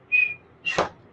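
A person whistles in imitation of a white-gloved traffic cop at an intersection, giving two short, sharp blasts, the second breathier and harsher, close and alone.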